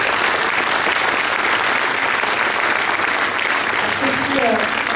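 Dense, loud applause from a crowd at a mayor's New Year's greetings evening honouring gendarmes and firefighters, a continuous wash of clapping that holds steady throughout with a faint voice near the end.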